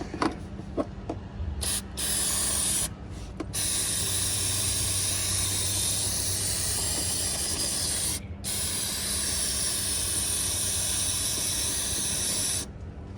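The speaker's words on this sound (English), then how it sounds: "we're just gonna spray it clean with some brake cleaner" Brake cleaner is sprayed onto an Acura TL engine near the cam cap seal in long, close, loud hissing bursts, with a few short gaps and some clicks of the nozzle.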